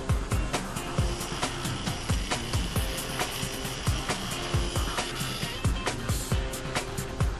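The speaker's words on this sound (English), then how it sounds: "The rest of the blade is ground down to ensure it's smooth and free of sharp burrs or jagged bits of metal." A metal scissor blade is ground smooth to remove burrs, giving a harsh abrasive grinding noise with repeated sweeping passes and sharp scraping bursts in a continuous factory machine din.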